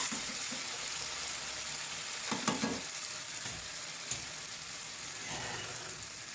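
Crushed onions frying in a pan, a steady soft sizzle with a few sharper crackles and stirring scrapes partway through.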